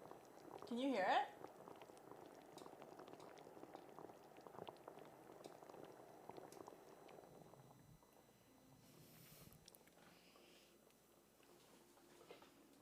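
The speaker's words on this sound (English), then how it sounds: "It's boiling." Liquid boiling indoors, a steady low bubbling and hissing patter that runs through most of the clip at moderate level, with a brief louder burst of voice near the start and faint talk over the simmer.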